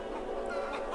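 A chicken clucking sound effect fires from a stream button, a short burst of busy, nasal hen clucks played loudly and close with no talk over it.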